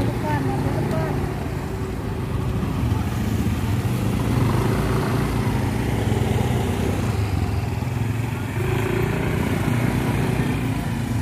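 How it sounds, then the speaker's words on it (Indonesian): Several people ride motorcycles together through Penajam, the engines giving a steady, loud, continuous drone with voices talking over it throughout. "Jadi kita naik motor aja rame-rame ini."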